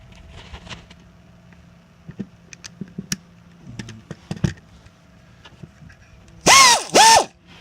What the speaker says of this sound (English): we're going to find our 13 millimeter. I'm going to slip it on the end of my wrench.